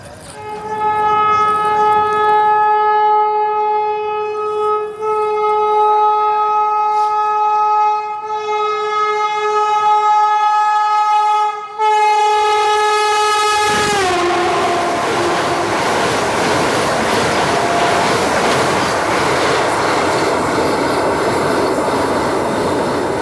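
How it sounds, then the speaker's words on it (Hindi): A passing train sounds a long, loud, sustained horn for about twelve seconds, then the heavy roar and rumble of the rail cars rushes close by. "क्या हॉकिंग थी इसकी।"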